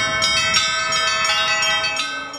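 Church bells peal continuously during an Orthodox religious procession through the central streets of Chita, Zabaykalsky Krai, with several overlapping strikes ringing out loud and steady with no voices.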